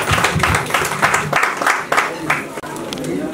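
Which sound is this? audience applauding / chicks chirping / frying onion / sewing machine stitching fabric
audience applauding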